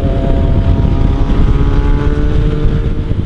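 Kawasaki Versys-X 300 motorcycle cruising in sixth gear at about 60 km/h, its steady engine drone mixed with road and wind rush, constant and loud with no gear changes.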